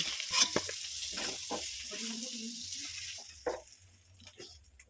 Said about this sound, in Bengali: পেঁয়াজ বাটা দিয়ে দিচ্ছি, লঙ্কা গুঁড়ো দিয়ে দিচ্ছি, ভেজে নিচ্ছি